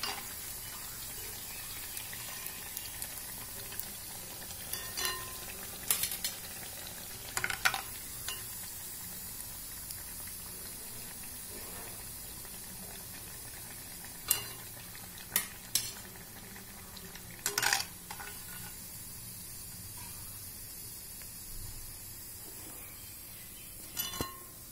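Banana flower vadai fry in a pan of hot oil with a steady, soft sizzle, broken by occasional clinks of a utensil turning and lifting the fritters.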